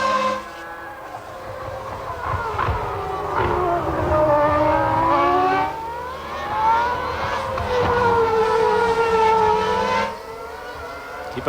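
Formula One race cars at the 1996 Australian Grand Prix in Melbourne scream past at high engine speed, loud high-pitched engine notes rising and falling as they pass, with gear changes and brief dips between passes.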